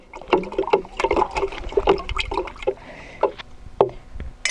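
Ten litres of water in a watering can being stirred with a poured-in complex microbial enzyme preparation for compost, giving close, irregular sloshing and splashing swirls with short pauses, no voices.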